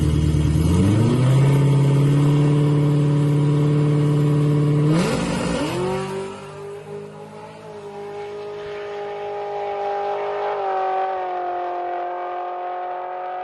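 A car accelerates hard on a track with a clear, loud engine note that climbs in pitch. A sharp gear shift comes at about five seconds, then the revs climb again and ease off gradually, with no voices.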